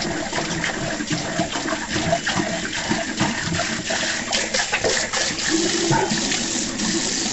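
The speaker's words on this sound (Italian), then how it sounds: "Possiamo svuotare la vasca, aprire l'acqua e pulire tutti i residui di barba che ci saranno nella lavandina." Tap water runs steadily into a bathroom sink while someone rinses away shaving residue, a continuous close splashing rush with small gurgles throughout; no speech.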